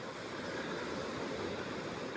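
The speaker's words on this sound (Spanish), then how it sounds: "olas que pasan" Ocean waves wash continuously onto the shore, a steady broadband surf roar with no breaks, moderately quiet and heard alone without voices.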